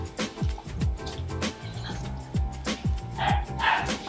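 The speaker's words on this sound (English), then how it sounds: "So don't worry about that barking in the background" A dog barks and yips repeatedly in the background, short sharp bursts spaced irregularly over a steady room hum.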